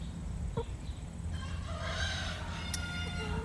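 Pet hen clucking and crowing-like calls in a backyard setting, several short clucks and a louder drawn-out call rising over steady low background noise, close to the listener with no talk.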